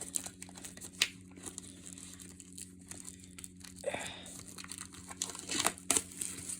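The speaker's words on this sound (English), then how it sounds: "let's peel this plastic off." Plastic wrap peeled off a Mortal Kombat Legacy Kollection deluxe edition PS5 game case, with soft crinkling and a few sharp tearing crackles over a faint steady hum.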